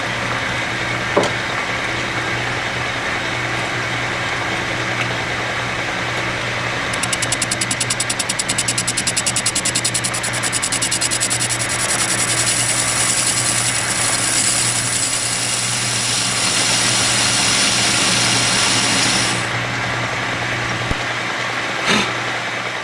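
A lathe takes a light finish pass on a steam engine piston, a steady mechanical whir with a fine high-pitched cutting whine running through the middle of the pass, with no talk.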